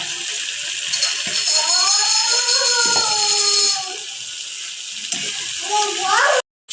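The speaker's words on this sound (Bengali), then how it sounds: "মশলাটা আমার কষানো হয়ে গেছে।" Spice paste with turmeric and salt sizzles in a pan for a fish curry, a steady close frying hiss with stirring noises and a brief cutoff near the end.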